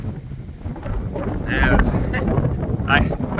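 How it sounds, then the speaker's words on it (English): Strong wind on a mountain top buffets the microphone in a steady, heavy roar, with a voice speaking through the gusts. "Super windy, but not too cold"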